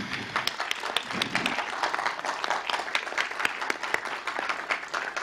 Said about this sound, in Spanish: Un aplauso para la doctora.